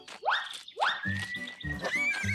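A cartoon horse neighs twice in quick succession, each a rising, shrill whinny, followed by a long wavering neigh with snorting pulses underneath, close and loud with no talk.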